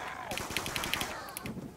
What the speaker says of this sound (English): Oh, boom, ray gun.